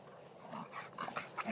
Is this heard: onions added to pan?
no